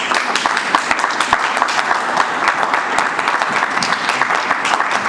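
An audience at a Women's Day speech event claps loudly and steadily. The sharp, close claps stay at a constant, lively level throughout, with no speech.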